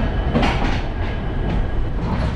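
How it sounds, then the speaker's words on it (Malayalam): Netravati Express pulled by two diesel locomotives departing Panvel station, heard from inside a sleeper coach as a loud, steady rumble with rhythmic clickety-clack of wheels over rail joints. "ഈ രണ്ട് ബർത്ത് പനവേലിന് നമ്മുടെ വണ്ടി 12:50 തന്നെ ഡിപ്പാർട്ട് ചെയ്തു"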